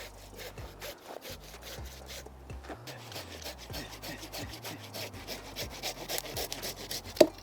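A saw rasps back and forth through the roots of a large five-needle pine bonsai during repotting, close and gritty, with a sharp snap near the end.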